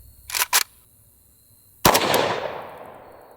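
A 5.45x39 rifle round fired at Dragon Skin armor plates: two short sharp reports, then a loud close blast with a long ringing decay that fades slowly.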